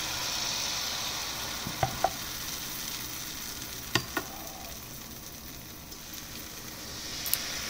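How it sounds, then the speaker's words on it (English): Dosa batter meets a hot oiled pan with a soft, steady sizzle, a few sharp ladle or spatula clicks scattered through it, fairly quiet and with no one talking. "Once the pan is hot, add the batter slowly."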